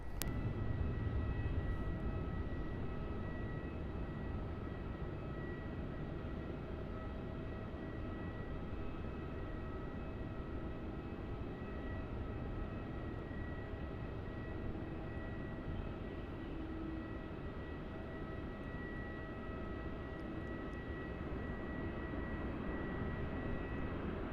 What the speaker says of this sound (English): we have a Virgin 737-800. It's arriving on runway 34 as VA 1036 from the Sunshine Coast.